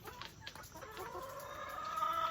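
Backyard egg-laying hens clucking softly in a farmyard, a steady murmur of cackles at moderate distance with no talking.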